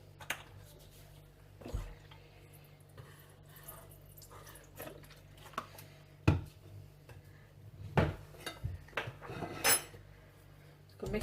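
Homemade mayonnaise with lemon juice is mixed by hand in a bowl, giving scattered clinks and scrapes of a utensil against the dish, with a few sharper knocks standing out over a quiet background.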